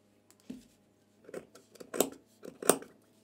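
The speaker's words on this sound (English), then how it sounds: "I'll place the pattern in this way and cut exactly as per the pattern." Scissors cutting fabric along a paper pattern for a sweatshirt, a few close, quiet snips spaced out over a few seconds, no talking.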